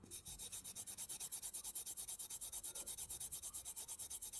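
A buffing pad is rubbed back and forth over a jewellery earring to remove sanding marks, a fast steady rhythmic scratchy rasp of about seven strokes per second, close and continuous, with no voices.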